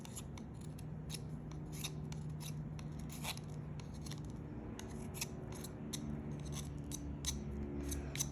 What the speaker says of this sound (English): If you're really good with a knife, you can probably sharpen 3/4 of it that way.